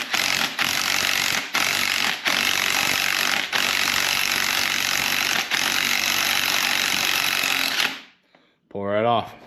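A gear puller works fifth gear off an R154 transmission, producing a loud, continuous grinding scrape broken by short pauses, then stopping abruptly.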